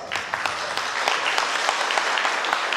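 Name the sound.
applause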